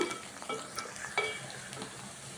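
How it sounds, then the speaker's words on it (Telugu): Bitter gourd pieces fry in oil on high flame with the lid off while being stirred, giving a soft steady sizzle broken by a few sharp scraping stir strokes, close and moderately quiet with no talking. "హై ఫ్లేమ్ మీదే వేయించుకుందామండి మూత పెట్టకుండా వేయించుకుందాము"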